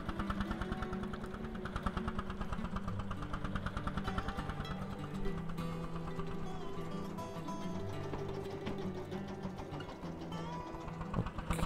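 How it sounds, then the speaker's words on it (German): A tractor engine idles in Farming Simulator 22, a steady low mechanical hum with a fine regular pulsing throb, continuous and fairly quiet, with no voices over it. "Okay, der Traktor steht schon mal da."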